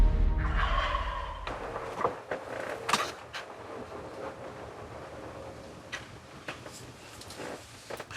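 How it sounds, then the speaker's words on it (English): Wild turkeys gobbling on a ridge in New York woods during hunting season, with repeated gobbles from a moderate distance among quieter outdoor ambience and no talking. "They kind of worked their way on a ridge behind me and just hammered gobbling"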